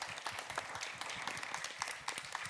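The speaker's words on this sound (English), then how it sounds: "I want to give you guys a round of applause" Audience applause at a World Food Forum private sector roundtable, a steady patter of many hands clapping across the room at moderate distance, continuous throughout without speech.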